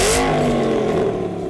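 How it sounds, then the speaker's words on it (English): An Aston Martin Vantage GT8 with the optional titanium exhaust revs loudly and close, its engine note rising and then holding in a steady snarl, with no talking. "this car also has the optional titanium exhaust, which sounds absolutely incredible"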